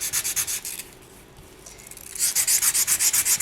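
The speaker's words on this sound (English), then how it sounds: "I'm just going to try and sand in the areas around the feathers" Coarse-grit sandpaper rubs rhythmically over a polymer clay bowl around its sculpted feather details, a close, steady series of scratchy back-and-forth strokes that pause briefly midway and then resume more loudly.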